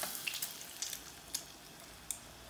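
Breadcrumbs drop into hot oil and fry with a faint, steady sizzling hiss broken by a few sharp crackles and pops, with no voices.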